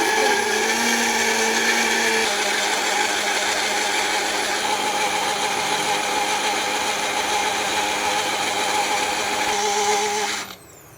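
Juicer motor whirring steadily as it presses drumstick leaves, curry leaves and cucumber into juice, a loud continuous high-pitched drone that runs for about ten seconds before winding down and stopping at the end.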